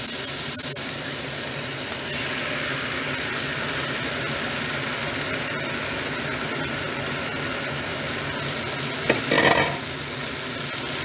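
Sliced courgettes drop into a pan where tomatoes and chicken are already frying. A constant close sizzle runs throughout, with a short stirring scrape near the end.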